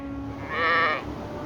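A single cartoon goat bleat, a clear wavering call lasting about half a second, loud and close against a quiet background.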